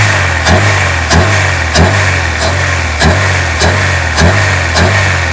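A 1982 Mercedes W123 230E petrol engine with freshly rebuilt mechanical fuel injection is blipped about nine times in an even rhythm, each sharp rev rising over a loud, steady idle close by.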